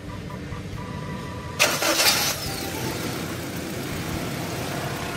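A Toyota Kijang engine with a repaired starter motor cranks and catches in a short loud burst, then settles into a steady idle.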